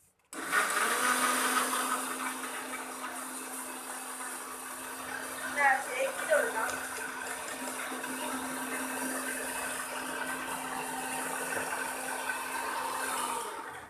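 A kitchen blender whirs steadily while blending an apple shake with Boost added. The motor hum is loud and sustained for the whole stretch, with a brief rattling change partway through.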